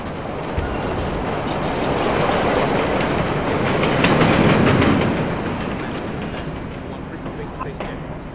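A train in the Splinter Cell Blacklist video game rolls past with a heavy rumbling clatter that builds to a loud peak near the middle and then fades away again.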